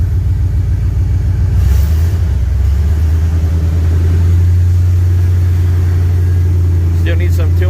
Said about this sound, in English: Just leave it a little rev, see if it revs a little bit.